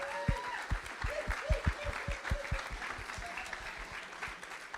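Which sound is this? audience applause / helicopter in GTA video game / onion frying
audience applause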